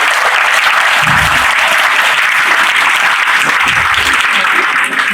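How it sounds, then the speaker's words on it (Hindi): Loud, dense applause from a crowd of students at a science fest in a hall, continuous clapping for several seconds with some voices mixed in. "तो सबसे पहले तो आप अपने आप के लिए बहुत जोरदार तालियां बजा लीजिए।"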